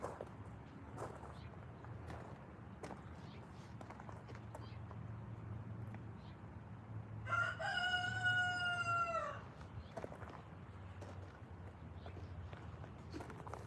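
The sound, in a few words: rooster crowing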